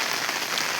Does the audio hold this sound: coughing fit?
no